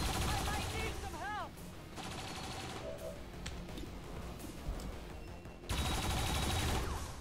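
Turret gunfire in XCOM 2, bursts of automatic fire at the start and end with a quieter stretch of scattered shots and game effects in between, loud and close.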